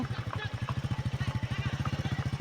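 A motorcycle ridden by a small boy chugs with a fast, even low thumping pulse, close by, while a voice talks over it.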